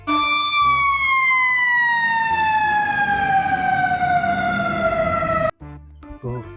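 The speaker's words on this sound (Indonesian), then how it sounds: "Wow, mobil damkar." Toy fire truck siren wailing loudly and steadily with a slowly falling pitch for about five and a half seconds, then cutting off abruptly, followed by brief quieter clatter.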